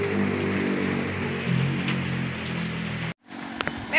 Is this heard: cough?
no